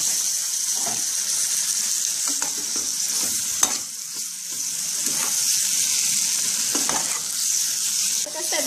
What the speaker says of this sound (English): I'm just gonna add a little bit of water to this because I don't like when curry is burnt